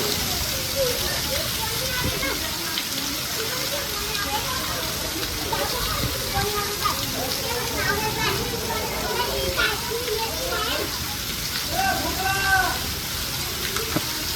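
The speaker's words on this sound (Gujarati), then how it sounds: "બહુ ભયંકર વરસાદની જોડે વાયરો બી છે" Heavy rain driven by strong wind pours steadily in the Banaskantha district of Gujarat, a dense continuous roar with crackling splashes, while children's voices and chatter rise over it throughout.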